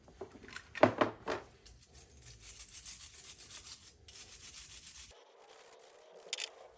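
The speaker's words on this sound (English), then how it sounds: "wire brush up all these parts and these" Wire brush scrubbing the front brake parts of a Hyundai i10 during a pad replacement: a few sharp, close scratchy strokes early on, then a steadier run of quieter rasping scrubs, with no talking.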